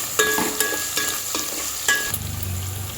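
Crushed garlic cloves frying in a pan for a village-style drumstick horse gram stew, with a steady sizzle and a few clinks of stirring near the start and middle, ending in a low rumble.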